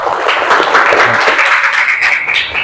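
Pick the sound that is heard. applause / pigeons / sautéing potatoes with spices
applause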